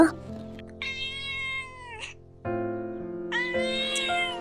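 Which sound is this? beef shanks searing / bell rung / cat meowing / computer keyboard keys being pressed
cat meowing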